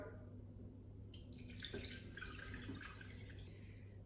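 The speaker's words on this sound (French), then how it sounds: "je viens peser 500 g d'eau dans mon bol" Water is poured into a Thermomix mixing bowl to be weighed, a quiet splashing trickle that swells for a few seconds over a low steady hum, with no one speaking.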